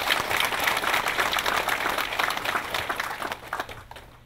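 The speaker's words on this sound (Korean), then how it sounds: "큰 박수 한번 부탁드립니다" Audience applause at a New Year's greeting gathering, a fairly loud wash of clapping that thins and fades out over the last second.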